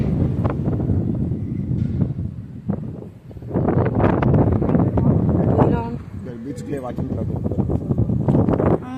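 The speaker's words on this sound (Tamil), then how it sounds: "காற்று ரொம்ப நல்லா அடிக்குது" Gusty wind at the Kollam lighthouse beach in Kerala roars and buffets the microphone continuously while people talk over it.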